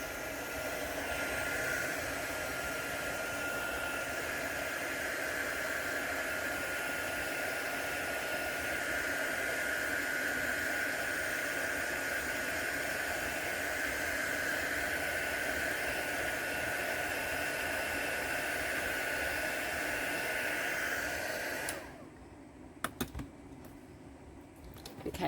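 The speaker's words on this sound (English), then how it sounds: "I'll just get my heat gun and I will dry this off." A heat gun drying mixed media paint blows a steady, loud broadband whoosh that runs unbroken for about twenty seconds, then cuts off abruptly, leaving a few faint clicks and handling noises.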